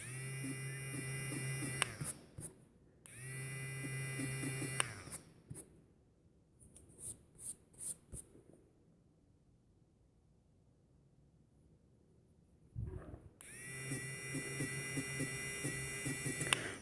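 A small electric eraser whirs with a high, steady buzz in several separate bursts of a few seconds each, with quiet scratching and tapping of drawing on paper in the pauses between.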